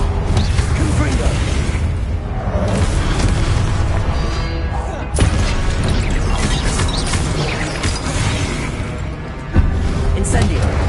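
Repeated Confringo blast spell explosions in a video game, heavy booming bursts over a constant wash of battle noise, with a voice talking throughout.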